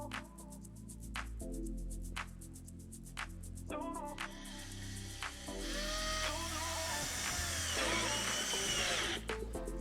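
A power drill drives sheet metal screws into the new floor of a party bus, with repeated bursts of whining motor starting and stopping, close and loud, later building into a longer, busier stretch of drilling.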